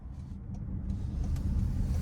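Inside a 2025 Toyota bZ4X electric car as it moves off on the road: a low, steady cabin rumble of tyres and motion that grows slightly louder, with no talking.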